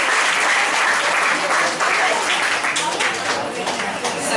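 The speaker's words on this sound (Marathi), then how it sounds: "कृपया जोरदार एकदा टाळ्या" Loud, dense applause from an audience at a women's social get-together, a continuous roar of many hands clapping close by that holds steady throughout.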